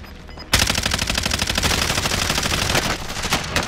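Video game gunfire erupting suddenly into a loud, rapid, sustained automatic burst, close and dense, with no one talking over it.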